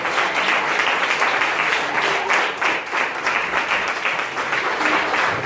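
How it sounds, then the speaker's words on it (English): Sustained applause from a large audience at an annual celebration gathering, many hands clapping together in a thick, even roar that stays loud from start to finish. "And clap for the residents that welcome us to their home tonight."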